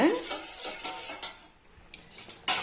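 A utensil stirs urad dal porridge in a pot, making repeated scraping and clinking strokes against the metal at a moderate, uneven rhythm, close by and fairly clear.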